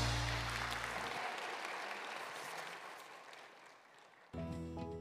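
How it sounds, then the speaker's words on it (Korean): Congregation applause at a Sunday worship service at Good Shepherd Church, a broad wash of many hands clapping that slowly thins and fades, then cut off abruptly by a different sound near the end. "다시 한번 크게 박수해 주시기 바랍니다."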